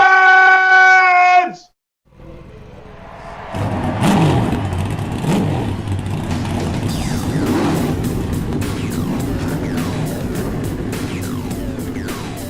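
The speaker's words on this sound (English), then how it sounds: "Drivers, start your engines!" Stock car engines fire up and rev in the eNASCAR Coca-Cola iRacing Series race at Darlington. A sustained tone gives way to a loud, dense roar of many engines idling and blipping together, close and continuous.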